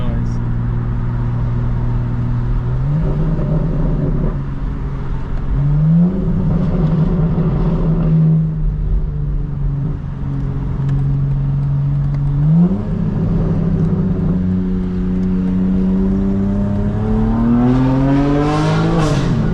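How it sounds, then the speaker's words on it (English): A 2024 G82 BMW M4 Competition xDrive pulls hard through several gears, its engine and intake note rising in pitch with each surge and dropping at every shift. The sound stays loud and close from inside the cabin. "So much intake noise."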